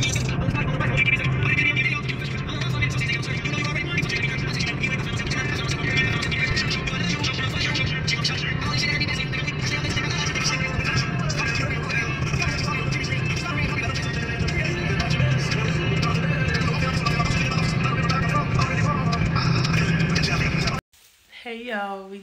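A car on a long drive home, with steady road and engine rumble from inside the cabin continuing for about twenty seconds at even loudness and voices talking over it, before cutting abruptly at the end.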